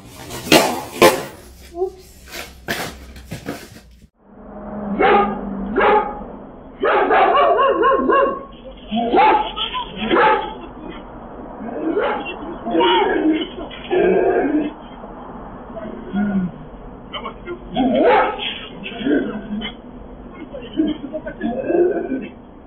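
A dog barks in repeated, loud bursts near a delivery driver, with people talking over and between the barks and a brief clatter at the start.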